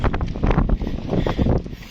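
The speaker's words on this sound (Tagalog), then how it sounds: "Kahit malakas ang hangin, okay lang." Strong wind on a beach in Mykonos, Greece buffets the microphone in loud, uneven gusts, roaring and rumbling with no voices.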